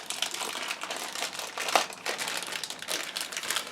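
Hands rummage through a crinkly grey plastic bag holding board game pieces, producing continuous close crackling and rustling with small bursts, no voices.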